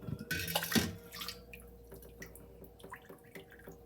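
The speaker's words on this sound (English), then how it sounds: "Gonna rinse out my mason jar a little so I can show you really what this water looks like." Water splashing and sloshing inside a mason jar being rinsed, a brief louder burst early on followed by faint drips and trickles, close and alone.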